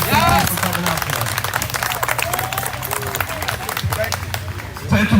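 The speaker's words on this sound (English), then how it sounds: "Please give him a round of applause for coming to our community again." Crowd applauding at a political rally for a governor candidate, loud sustained clapping and cheering from a large audience with babble mixed in.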